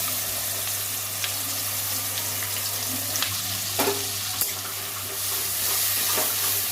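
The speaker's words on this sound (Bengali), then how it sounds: "এটা পেস্ট করে নিয়েছি একটু তেলের মধ্যে ভেজে নেব" A paste of green peas, chillies and ginger fries in oil for kachori filling, giving a steady, close sizzle broken by a few sharp scrapes and clicks of stirring.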